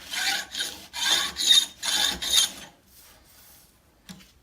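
A file dresses a chainsaw bar in several rough, rasping strokes in a steady rhythm, close and loud, then fading to quieter, lighter scraping near the end.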